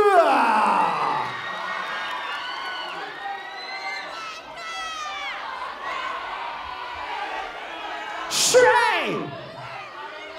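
An audience at a 2022 three-school joint student showcase cheers and whoops for a popping dance group, with loud shouts and crowd noise rising and falling and a voice speaking over it at the start.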